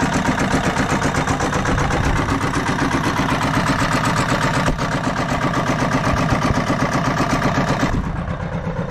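A military surplus diesel engine fitted to a trench compactor runs loudly and steadily up close, a constant rough mechanical drone that dips slightly at the very end.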